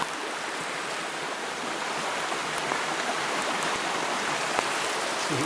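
Creek water at Bluff Creek runs in a steady, even broadband wash, a constant close rush with faint splashing flickers and no talking.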